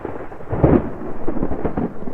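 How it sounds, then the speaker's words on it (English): Thunder from an approaching thunderstorm over an outdoor vegetable garden, a loud, close, continuous rolling rumble lasting a couple of seconds with no voices. "It's starting to thunderstorm around here"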